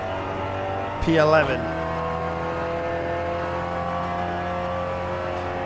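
A GTI touring car engine drones steadily at Donington Park, a continuous mid-pitched racing hum with a brief louder rising burst near the start, under a short spoken word.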